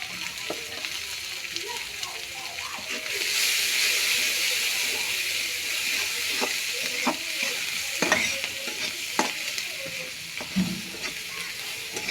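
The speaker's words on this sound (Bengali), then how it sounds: "ভালো করে বাদামি কালার করে আমি পেঁয়াজ মরিচটা ভাজে নেব" Chopped onion and green chilies frying with bay leaves in a pan, a steady close sizzle that swells louder after a few seconds, with scattered stirring scrapes and clinks throughout.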